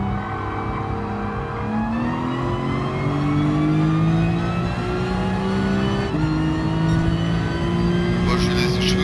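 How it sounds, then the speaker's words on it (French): A turbocharged racing car engine in the video game GT Sport revs loudly and steadily, its whine climbing in pitch, dropping briefly at a gear shift, then rising again. "je vous ai laissé un petit peu de bruit de moteur parce que c'est vrai il est bien ce bruit"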